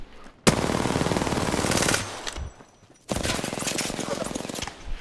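Automatic gunfire in a battle royale video game, two long loud sustained bursts separated by a brief pause, with a voice speaking between them.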